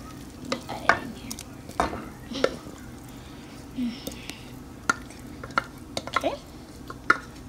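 A hot potato mixture is stirred slowly in a pot, with scraping strokes against the sides, intermittent close clinks and soft background voices.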